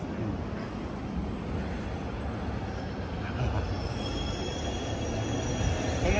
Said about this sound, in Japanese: 結構路面電車多いですね。